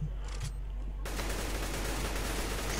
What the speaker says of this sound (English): That's a P90.